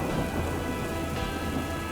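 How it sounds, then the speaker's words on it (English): Heavy, steady rain pours down with rumbling thunder in a fantasy storm scene, a dense continuous wash of sound with no voices. "All good stories start with a storm."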